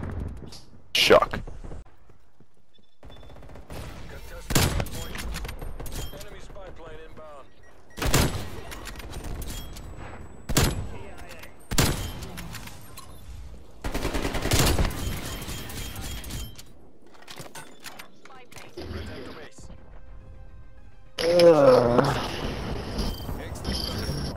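Bursts of video game gunfire cut down players at their spawn point, sharp broadband volleys recurring through the clip amid chaotic game noise, with several players talking and shouting over it.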